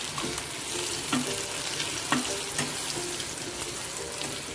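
Onion masala, turmeric and salt sautéing in a pan for a summer kurdai dish, a continuous sizzle broken by regular spatula scrapes and taps as the mixture is stirred.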